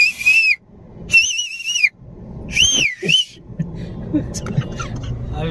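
A person whistles sharply several times, short bright warbling bursts separated by pauses, with a low rumble and a voice talking underneath, inside a vehicle at Lonavala.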